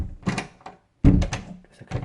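A bedroom door in a house, fitted with small dampers, closes with a single soft, muffled thunk instead of slamming, preceded and followed by faint handling noises.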